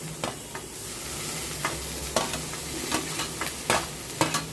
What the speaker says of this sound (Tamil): சிம்மில் வச்சு வதக்கி கொடுங்க